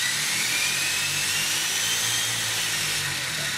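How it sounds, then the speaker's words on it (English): An RC car runs on a dyno during a test pull, giving a loud, steady high-pitched electric whine with a broad hiss that holds at a constant level throughout. "And the dyno's moving."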